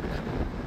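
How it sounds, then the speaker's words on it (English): Wind buffets the microphone in low rumbling gusts, a brief blustery roar, on open land in Utah. "it's like super, super windy"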